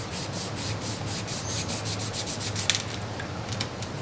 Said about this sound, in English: we're going to start by doing a little sanding